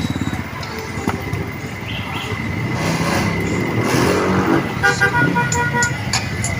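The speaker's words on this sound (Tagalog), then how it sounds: "Traffic." Busy street traffic rumbles with passing cars and motorcycles while car horns toot several times, with a couple of sustained honks over a steady, close road noise.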